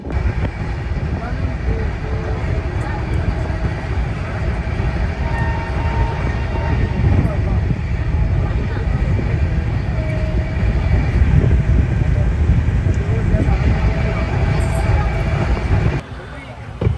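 The Yoga Express passenger train from Ahmedabad to Haridwar runs along the rails with a loud, steady rumble and rattle heard from on board, continuing unbroken until it drops off near the end.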